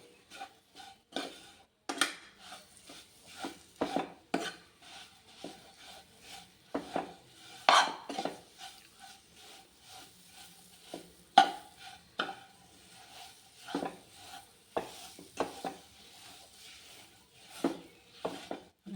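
Semolina (rava) is stirred as it roasts in a pan for a sweet dish, making scraping and rubbing strokes at an irregular rhythm with scattered clinks of utensil on pan. The sound is close and fairly quiet, with no talk.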